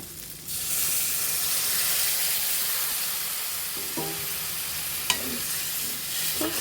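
Prawns frying in a pan with onion for a masala, a loud steady sizzle and hiss bursting up as a little water goes in, with a few sharp clinks of a utensil and light stirring close by.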